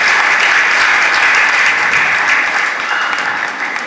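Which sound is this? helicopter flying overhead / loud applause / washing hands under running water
loud applause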